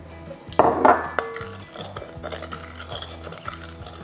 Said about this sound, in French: je mélange 250 ml de lait entier avec 50 g de sucre semoule